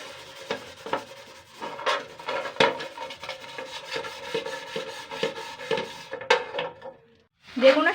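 Old brass plate scrubbed with coconut coir and cleaning powder, giving rhythmic rasping and scraping strokes with clinks of metal, steady and close, ending in a brief sharper scrape.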